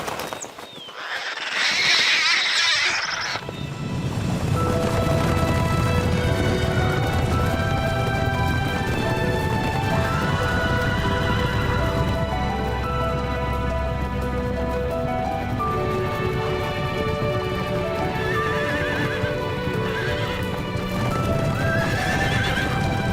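Horses in a herd reunited in spring in a Tian Shan mountain village, with loud, close neighing and whinnying over steady hoof clip-clop that continues throughout, following a brief rushing burst at the start.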